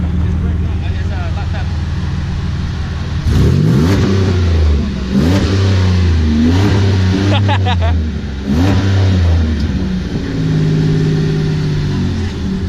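A Chrysler car revs hard during a burnout at a busy car meet, loud surging engine bursts rising and falling repeatedly, close by, with people talking and shouting around it.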